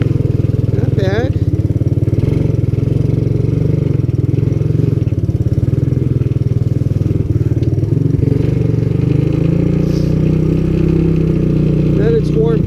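Vintage Honda ATC200S all-terrain trike engine droning steadily at speed, loud and close with constant low rumble and wind buffeting throughout.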